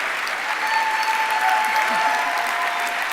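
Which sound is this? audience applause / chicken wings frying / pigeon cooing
audience applause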